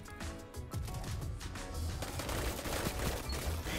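Hipfire gunshots from a weapon in Destiny 2, a rapid burst of shots in quick succession, loud and close with dense crackling reports and no talking.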